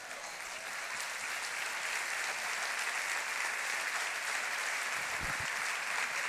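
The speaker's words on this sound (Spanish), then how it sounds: "Dale un fuerte aplauso." A church congregation applauds loudly and continuously during a sermon, a dense, even wash of clapping with no pauses.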